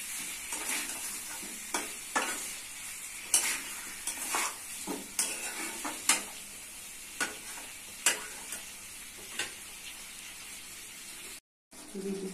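Potatoes go into a pan of frying chicken curry and are stirred, with a steady sizzle beneath repeated scraping and clattering spoon strokes against the pot, close and fairly loud, before a brief cut near the end.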